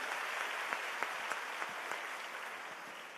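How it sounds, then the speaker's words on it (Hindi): A crowd at an Aam Aadmi Party gathering in Delhi applauds children, a steady wash of clapping with a few sharper individual claps standing out. "जोरदार तालियां भी बजा दीजिए इन बच्चों के लिए"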